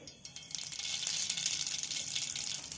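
Mustard seeds hit very hot oil in a kadhai, setting off a bright, steady crackling sizzle that swells after a brief quiet start and continues close and fairly loud, with no talking.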